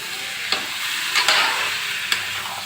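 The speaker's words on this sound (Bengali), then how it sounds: "মশলাটা তেল ছেড়ে দিয়েছে এবার আমি এর মধ্যে এই মাংসগুলো দিয়ে দিতে পারি" Chicken pieces sizzling and frying in spiced oil in a pan, with steady crackle and a few sharp stirring scrapes and clinks, close and moderately loud.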